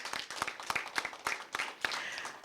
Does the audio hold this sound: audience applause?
yes